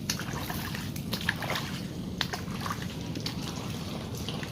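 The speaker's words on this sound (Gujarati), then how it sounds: "પાણી આંબામાં ભર્યું છે, જુઓ ને, હા થોડું નીકળે છે" Water trickling out of a flooded farm field, a soft, faint continuous babbling with small irregular splashes, heard alone outdoors.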